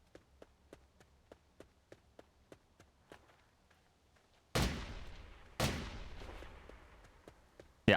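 Rifle gunshots in a zombie city-building video game: a run of light regular clicks or steps, then two loud sharp shots each with a long decaying tail, and a third shot cut off at the end.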